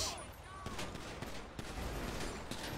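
Gunfire in the GTA V video game during a police roleplay shootout, several sharp shots in quick bursts against background game noise and a faint voice.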